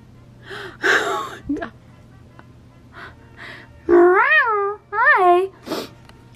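A person imitates a cat, voicing two long, drawn-out wavering meows in a row, preceded by a gasp and brief vocal sounds, close and loud indoors.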